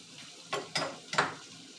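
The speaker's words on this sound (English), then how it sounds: "I'm gonna let this saute on the stove over the heat" Pepper steak sauteing in a pan on the stove hisses in three short, quiet sizzling bursts, close by, with near silence between them.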